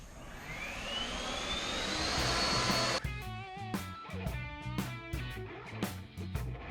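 Air blower roaring loudly and steadily as it blasts loose debris off a car, its rising whine holding for a few seconds before breaking into choppy bursts of air.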